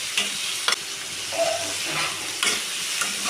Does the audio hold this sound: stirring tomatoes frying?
yes